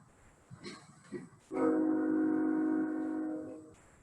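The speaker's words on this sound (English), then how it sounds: "I just heard the train go by." A train horn blares in one long, steady, loud blast of layered tones for about two seconds near the Columbia River, following a few soft, indistinct sounds.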